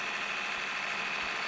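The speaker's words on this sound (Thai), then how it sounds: "รถไถเล็กๆมันก็แรงเหมือนกันนะเนี่ยทุกคน" Small tractor engine in the Farming Simulator 20 video game running at a steady idle, a constant near drone with no talk over it.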